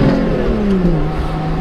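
Lotus sports car engine pulling hard, a loud close engine drone whose pitch slides downward as a gear change comes through, continuous and without talking.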